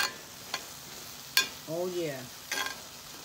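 Meatloaf mixture cooks down in a pan with a faint sizzle. A few sharp utensil scrapes break through, and a voice briefly speaks.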